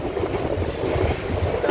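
Steady low rumble inside a moving train carriage, a continuous rolling drone with faint rattles and no talking.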